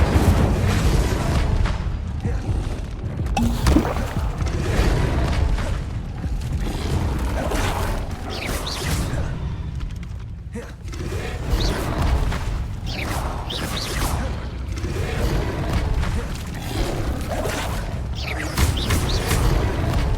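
Expelliarmus and Incendio spells cast in the Hogwarts Legacy video game: a continuous, dense barrage of booming blasts, crashes and whooshing magic effects, loud and close throughout.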